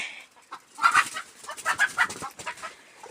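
Several laying hens cluck in short, uneven bursts, fairly close, with soft rustling between calls and no talking.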